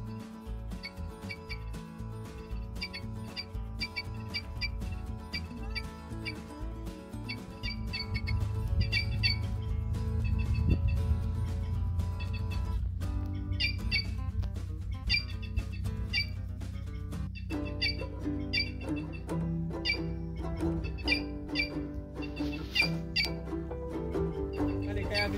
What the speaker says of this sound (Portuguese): O pessoal não sabe o que é gralhas cantando.